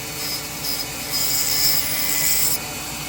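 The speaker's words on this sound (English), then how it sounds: "We're going to start with his back cut. Alright, I'm gonna cut that back." A blade or file scrapes across the back of a plastic model car body, a 1986 Monte Carlo SS kit, making a steady, close rasping rub with slight surges over a few seconds.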